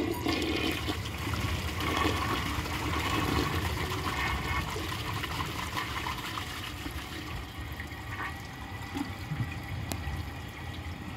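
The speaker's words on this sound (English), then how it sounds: "So I'm going to wait for the tank to fill up" A 1950 Case toilet tank refilling after a flush, a steady rushing hiss of water filling the tank that tapers slightly toward the end, with faint trickling and no talk.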